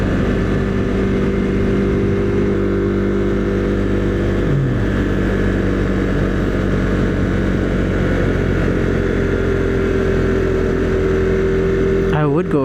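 A Husqvarna Svartpilen motorcycle rides along the Blue Ridge Parkway, its engine droning steadily up close with a constant wind-buffeted roar, a brief dip in pitch midway, and a sharp revving swell at the very end.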